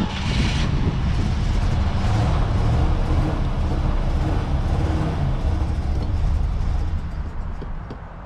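An abandoned 1967 Ford Galaxie 500 engine, its carburetor still filling with fuel, sputters and tries to run, producing a loud, steady, rough rumble that continues without speech and eases off slightly toward the end.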